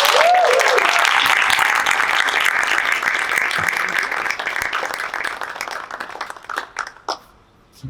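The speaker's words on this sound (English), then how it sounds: "Can we have a big round of applause?" Parents and pupils clap for a Year 5 class at a school assembly, a full, bright burst of applause that starts loud and close. It gradually thins and fades over several seconds, leaving scattered claps and a quieter room.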